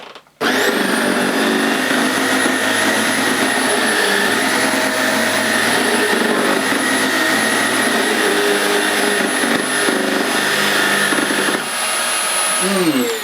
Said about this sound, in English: when I activate the brushes, it will increase the noise level